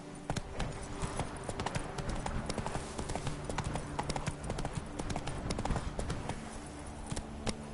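Horse hooves clip-clop in a video game, a rapid, steady patter of trotting hoofbeats lasting the whole stretch with game ambience underneath.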